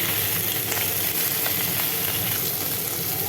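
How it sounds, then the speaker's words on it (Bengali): Tengra fish frying in a little oil, giving a steady, dense, close sizzle that holds without pause throughout. "প্রত্যেক দিনের মতো আজকেও অল্প অল্প তেলে মাছগুলো ভাজবো"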